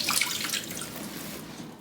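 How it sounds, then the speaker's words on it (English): Onions rinsed under a running kitchen tap, a short steady hiss of water splashing into a sink, close and alone for under two seconds. "I like to rinse my onions."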